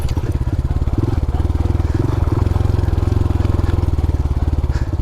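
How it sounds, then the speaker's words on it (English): A Honda Trail 125 Hunter Cub motorcycle fitted with a Yoshimura exhaust idles steadily up close, its low, even, rapid pulsing throb continuing unbroken throughout with no talking. "this Yoshimura exhaust on here doesn't really do me much in the way of being stealthy, but it is fun to have some brap in your life"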